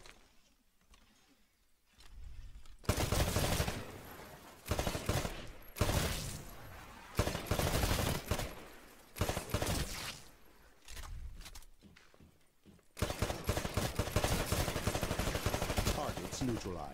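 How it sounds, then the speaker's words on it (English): Gunfire rings out at a shooting range in the Titanfall video game, shooting targets during pilot training: repeated loud bursts of rapid automatic shots with short gaps between them, growing into a long, sustained volley near the end, with no talking. "Destroy all of the targets in the shooting range."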